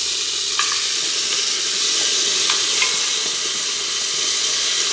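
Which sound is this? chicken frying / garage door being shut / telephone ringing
chicken frying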